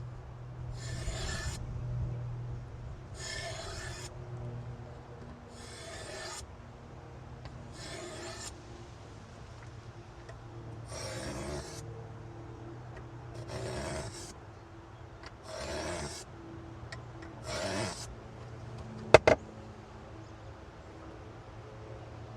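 A large garden tool blade is sharpened by hand with a file, giving about a dozen steady rasping strokes in even rhythm, close and fairly quiet, with a brief metallic clink near the end.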